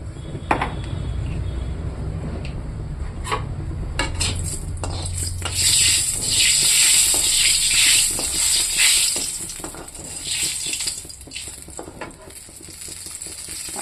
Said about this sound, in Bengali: কড়াইতে আমি শুকনো লঙ্কা দেব